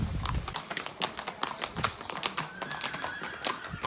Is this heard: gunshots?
no